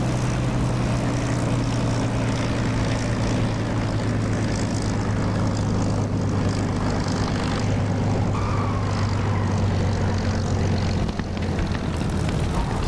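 A propeller aircraft in the DCS flight simulator drones loudly and steadily on a flaps-down landing approach, its engine hum and propeller buzz holding an even tone throughout.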